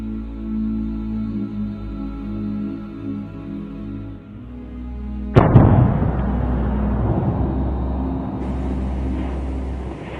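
A volcanic eruption bang in Iceland's Svartsengi volcanic system: a low steady rumble, then one sudden loud blast that gives way to a sustained roaring, crackling rush.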